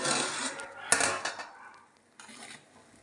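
Metal lid lifted and scraped off a pot of boiling horse gram, with clattering and rubbing of cookware over steady bubbling and hiss in a kitchen.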